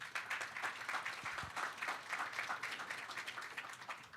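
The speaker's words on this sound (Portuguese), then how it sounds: "Salva de palmas." An audience applauds at a Portuguese-language plenary panel session for building managers, a dense wash of claps with a few louder bursts that keeps a fairly steady level for about four seconds and then tapers slightly, heard alone without speech.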